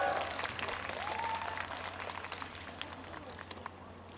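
Audience applause at a jazz festival open-mic jam session in Seoul, a steady broadband wash of clapping that stays fairly loud throughout and eases slightly toward the end, with some faint voices underneath.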